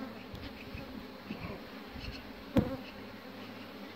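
Honeybees buzz steadily inside an opened hive during a winter inspection, a close, continuous insect drone with a short louder knock or bump partway through.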